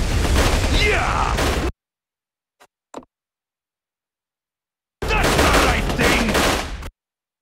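Gunfire from partisan troops in the Codename: Panzers war strategy game comes in two dense, loud bursts of rapid shots, separated by near silence with a couple of faint clicks.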